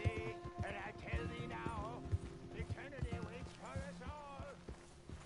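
Horse hooves clip-clop in a steady galloping rhythm in the video game Red Dead Redemption 2, beneath a voice talking and soft background music.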